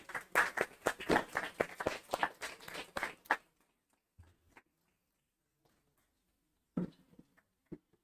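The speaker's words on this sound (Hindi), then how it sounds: "ताली की गड़गड़ाहट के साथ उनका हम स्वागत करेंगे" An audience at a seminar applauds to welcome a speaker, a burst of clapping lasting about three seconds that stops abruptly, leaving quiet with a few faint knocks and shuffles.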